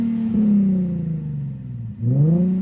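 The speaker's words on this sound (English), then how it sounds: "That's what the exhaust sounds like." A Nissan 370Z with an ISR single exit exhaust revs alone, with one long rev that sags, then a second quick blip that climbs, loud and close.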